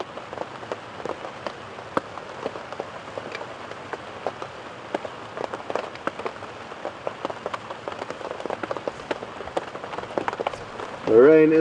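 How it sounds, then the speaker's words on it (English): Rain drums steadily on a tarpaulin roof during a morning wildlife safari drive, a dense patter of drops with sharper taps throughout, growing heavier and ending in a brief louder burst. "The rain is coming down harder now. I'm sure you will be able to hear it on this tarpaulin roof."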